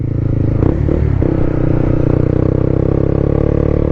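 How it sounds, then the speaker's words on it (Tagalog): A Clifford CB150X motorcycle labouring up a steep road, its engine droning loud and close with a steady throbbing note, plus brief rattling and scraping clatter early on. "Mukhang kayang-kaya naman ng motor paakyat."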